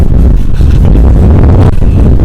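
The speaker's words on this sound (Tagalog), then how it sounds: "Lakas na hangin." Strong wind buffets the microphone in a loud, constant low roar with gusty rumbling throughout.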